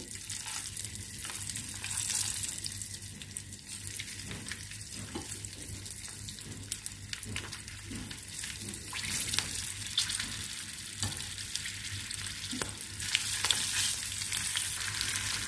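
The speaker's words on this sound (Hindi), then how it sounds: "अब तेज़ आंच पे मिर्चों को हम इसमें फ्राई करेंगे।" Green chillies fry on high flame for a quick pickle, a continuous loud sizzle with bubbling and sputtering pops throughout, no voices.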